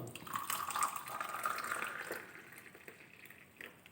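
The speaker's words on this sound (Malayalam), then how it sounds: "അപ്പോൾ ഇതിലേക്ക് നമുക്ക് ചായ ഒഴിച്ചു കൊടുക്കാം" Tea poured from above onto honey in a cup, a steady liquid trickle splashing for a few seconds before tapering off, close and fairly quiet.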